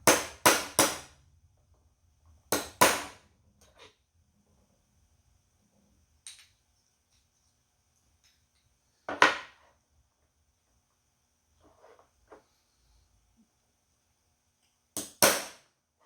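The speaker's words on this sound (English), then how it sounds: "I can use this to tap those rivets down with. My little 1/4-inch drive ratchet." A 1/4-inch drive ratchet taps rivets down on a carburetor of a 940 HP Vega Super Pro drag car, producing sharp metallic clicks in small bursts of two or three, separated by quiet gaps.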